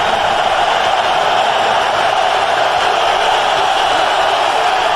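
A packed stadium crowd roars at an NFL game at Veterans Stadium in Philadelphia, Rams at Eagles in 2001, as a steady, loud, dense wall of cheering and shouting that never lets up.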